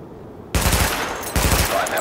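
Automatic gunfire bursts out after a brief quiet in Tom Clancy's The Division, two dense, loud rapid-fire volleys at a weapon-test range, with no voice present.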